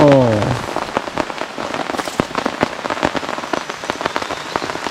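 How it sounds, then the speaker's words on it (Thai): Steady rain pattering densely on a tent at a forest campsite, with sharp individual drops and splats throughout; a brief voice is heard at the very start. "ฝนตกซะแล้ว"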